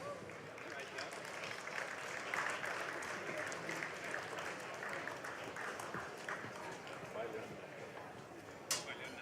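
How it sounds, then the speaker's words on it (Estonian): Sustained applause from an audience at an awards ceremony honouring winners, with steady clapping throughout and a brief sharp clack near the end, mixed with voices. "Ma palun veel üks suur aplaus."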